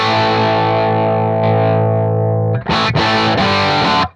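Guitar through a high watt dirty amp model on a TONEX pedal: a long sustained distorted chord rings out, then three short choppy chords follow before an abrupt stop.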